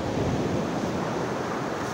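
Sea surf rolls in at Lipata, Surigao City, a dense continuous wash of breaking waves mixed with wind buffeting the microphone, loud and unbroken.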